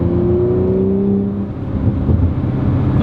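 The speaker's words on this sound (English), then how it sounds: "Nice bubbles from the exhaust." An Audi RS5's engine hums loudly and close at low revs, pitch sliding down, then rumbles and burbles through the exhaust in a rough, uneven mutter.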